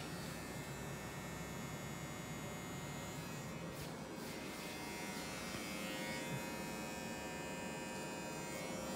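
Electric hair clipper running during a classic haircut in a barbershop, a continuous steady buzzing hum with little change in loudness and a brief dip partway through.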